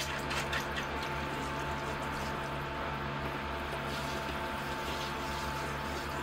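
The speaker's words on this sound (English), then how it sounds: "So now I'll give it a good water," Water pours steadily onto a Ficus burtt-davyi bonsai set in sand, a continuous close trickling and splashing with a faint hum underneath and no talking.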